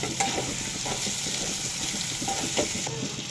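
Tomatoes fry in a pan with ginger garlic paste and cashews for a jackfruit curry, giving a constant close sizzle broken by soft stirring scrapes, with no talk.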